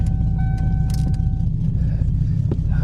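A 1991 Mercury Cougar, bought without keys, rolls backwards with a steady low engine and road rumble throughout, close and fairly loud, with a brief higher tone near the start and a small knock toward the end.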